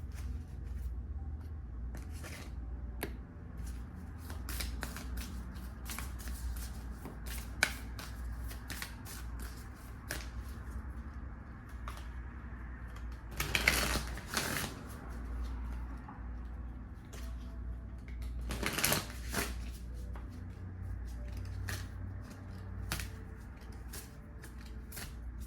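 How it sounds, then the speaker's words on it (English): Oracle cards from a rose-themed deck are shuffled, producing soft, continuous riffling and sliding with a few louder flurries, close and quiet, with no speech. "let's pull like one last guidance card from the Rose Oracle"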